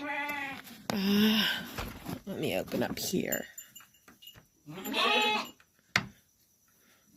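An Alpine goat doe and her newborn twins on a farm bleat in several loud, wavering calls, with a person speaking briefly in between.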